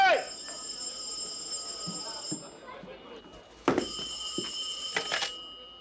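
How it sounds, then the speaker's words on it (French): A telephone rings in a bedroom with repeated bright electronic ring bursts at the start and again near the end, with voices talking quietly in between. "Téléphone dans ta chambre!"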